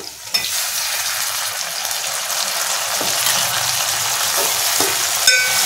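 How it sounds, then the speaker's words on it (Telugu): Tomatoes dropped into onions frying in oil in a pan, heard as a loud steady close sizzle with a couple of sharp clatters of a spoon against the pan and no voices. "చూడండి, ఉల్లిపాయలు ఇలా వేగినాయి కదా. ఇప్పుడు టమాటాలు వేసుకుందాం."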